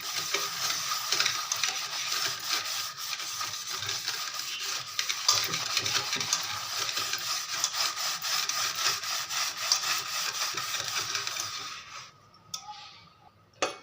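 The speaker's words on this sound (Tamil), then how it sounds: "நம்ம திரும்ப இந்த பாருங்கள் தேய்க்க தேய்க்க தேய்க்க அதில் வரும்" A rusty iron kadai pan is scrubbed hard, making a continuous, close, fairly loud abrasive rasping with a rapid back-and-forth rhythm. The scrubbing stops abruptly near the end.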